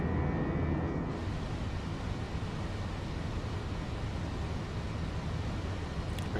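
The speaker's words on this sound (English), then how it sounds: "There it goes, the beautiful spool up." Airbus A321 jet engines spool up on a commercial flight from Ontario to Dallas-Fort Worth, heard as a dense, continuous roar of rushing noise that stays steady and fills the whole stretch.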